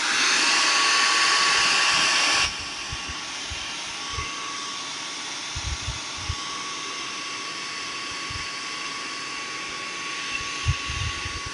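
A hair dryer blows on a fresh coat of paint on a small Halloween house craft: a loud, steady close whoosh for about two and a half seconds, then it cuts off, leaving quiet room tone with a few faint taps.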